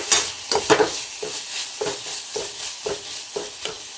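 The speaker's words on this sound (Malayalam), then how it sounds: "അതുകൂടി അതിലേക്ക് ഇട്ട് കൊടുത്തിട്ട് നന്നായിട്ടൊന്ന് ഇളക്കി കൊടുക്കാം കേട്ടോ" A spoon stirs crushed ginger and garlic through a frying pappadam curry in a pan: repeated scraping strokes roughly every half second over a soft sizzle, close and moderately quiet, with no talking.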